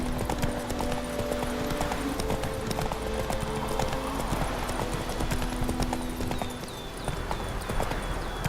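Roach, Geralt's horse in The Witcher 3, trotting with steady rhythmic clip-clop hoofbeats, close and continuous, with a faint whinny and game ambience underneath.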